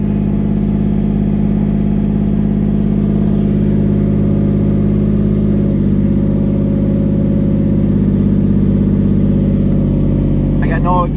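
A 1999 Lamborghini Diablo Roadster engine runs steadily in neutral just after starting, a loud, continuous deep rumble held close by with no pedal input, settling without revving.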